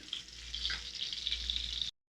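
Small onions frying in oil for a Tamil egg curry, a steady close hiss and sizzle of oil that cuts off abruptly near the end.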